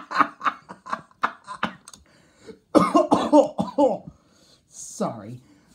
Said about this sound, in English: I'm laughing so hard I actually coughed.